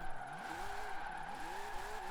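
A car in Forza Horizon 4 revs its engine while drifting up a mountain road, with a rising and falling pitch and a tire squeal over a steady hum, heard faintly and without speech.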